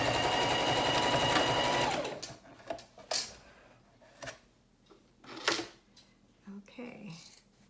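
Sewing machine stitching the lining of a makeup bag, a fast continuous motor whir for about two seconds that then stops, followed by scattered handling clicks and rustles of fabric.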